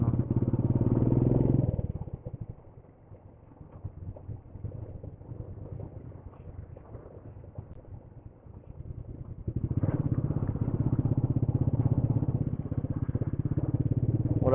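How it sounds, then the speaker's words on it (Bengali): Motorbike engines drone on a hill journey from Kalimpong toward Tinchuley in North Bengal, loud and close at the start, easing to a quieter rumble, then swelling loud again with wind noise. "ওরাও বাইক নিয়েই এসছে"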